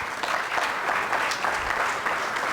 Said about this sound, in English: another round of applause to our guest of honor